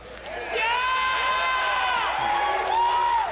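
A loud, roaring crowd at the Bethesda E3 2019 showcase cheers and whoops in a sustained swell that holds steady, with some voices rising above the din.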